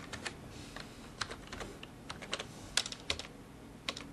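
Quick, light keystrokes tap on a computer keyboard at close range, coming in irregular bursts with a few firmer clicks, like pressed Enter keys, over a quiet background.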